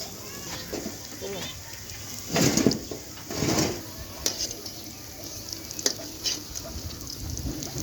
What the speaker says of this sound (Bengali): এই যে তৈরি করা হচ্ছে মজাদার পেঁয়াজু